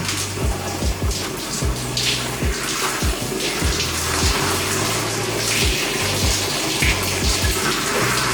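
Shower water runs steadily and splashes while hair is rinsed, a dense continuous spray with irregular low thuds and no talk.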